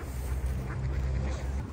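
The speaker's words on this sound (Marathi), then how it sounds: "बघा बदका बघा" Ducks quacking in a park in Kirov, Russia, during light snowfall, brief faint calls over steady outdoor rumble and background noise.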